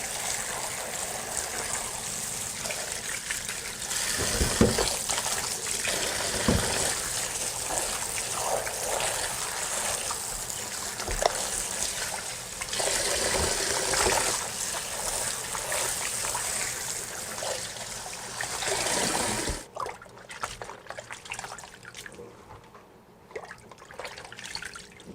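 Tap water runs steadily into a sink while Korean napa cabbage for kimchi is washed piece by piece, with brief splashes and handling noises, then stops near the end, leaving quieter drips and faint clatter.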